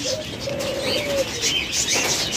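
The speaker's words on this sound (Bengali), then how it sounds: "চমৎকার কিছু ঘুঘু পাখি রয়েছে" Doves kept for sale, in several colour mutations, give soft, drawn-out coos against a busy aviary background of chirps and brief wing flutters.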